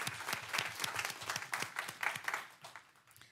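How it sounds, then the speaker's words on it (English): Audience at a city council meeting clapping in a sustained round of applause, dense and fairly close, swelling in the middle and then thinning out toward the end. "And let's give him a big round of applause."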